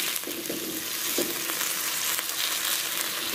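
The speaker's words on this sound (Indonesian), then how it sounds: "biarkan mendidih dan ngerecek." Largehead hairtail fish in tomato sauce with water added simmers in a pan, giving a steady sizzling, bubbling hiss with a few soft clicks. It is close and continuous, with no voices.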